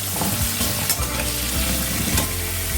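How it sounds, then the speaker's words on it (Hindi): Pumpkin pieces fry in oil left over from frying potatoes and pointed gourd, giving a loud, constant close sizzle with a few stirring scrapes and no voices. "बची हुई तेल में हम डालेंगे कोहड़ा, और कोहड़ा को भी फ्राई करके निकाल लेंगे।"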